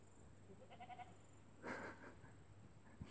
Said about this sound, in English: She's a miniature goat. An Australian miniature goat.